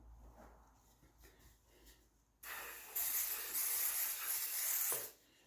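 Aerosol spray hisses in two long bursts onto a bearing during a Triumph TR6 gearbox rebuild, loud and close, after a quieter stretch of workshop background.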